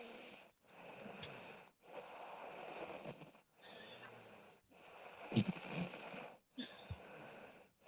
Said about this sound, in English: Someone snores really bad though.